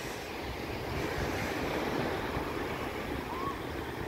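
Steady wash of surf rolling onto Sine Beach, Tulungagung, a continuous broadband roar with wind noise, no voices.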